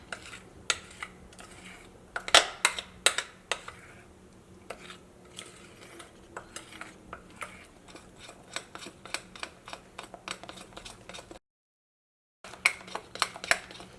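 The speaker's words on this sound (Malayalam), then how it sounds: "നന്നായിട്ട് ഇങ്ങനെ ഒന്ന് സ്പൂണും കൊണ്ട് ഇങ്ങനെ കറക്കി ഇങ്ങനെ മിക്സ് ചെയ്തെടുക്കുക" A spoon clinks and scrapes around a bowl while stirring wheat flour and egg batter, with irregular close taps and scrapes throughout, a brief silent gap near the end, and no talking.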